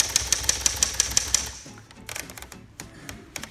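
A 1931 Royal 10 typewriter typing letters: a quick, steady run of eight sharp keystrikes in the first second and a half, then scattered softer mechanical clacks, close and loud, with no talk.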